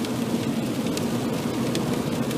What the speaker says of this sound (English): And then got right back in my car because it's raining.